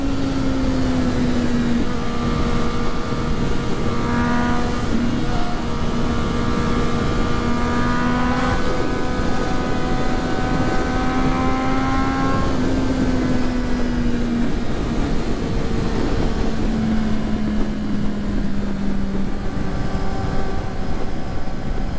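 A motorcycle cruises on the Anhanguera highway in third gear at about 160 km/h, its engine holding a steady, loud high drone with slight pitch wavers beneath constant wind roar from start to finish.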